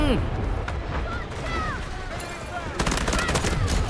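Gunfire in the Delta Force video game rattles in dense, rapid bursts, loud and near, with heavier booms in a crowded battle and voices murmuring beneath.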